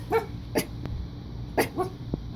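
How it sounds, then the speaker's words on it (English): A miniature pinscher barks several times in quick sharp yips, in pairs with short pauses, fairly close with low background noise. "my little mini pinscher is having a blast barking at these two"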